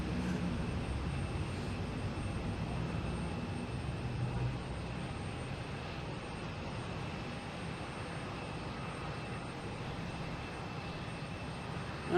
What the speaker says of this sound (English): we got Spirit Airlines coming in here